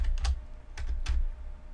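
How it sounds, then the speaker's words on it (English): Keys on a computer keyboard are pressed while someone navigates accounting software, giving a few separate sharp clicks spaced unevenly, close and clear against a quiet room. "so I can hit the tab key to move forward"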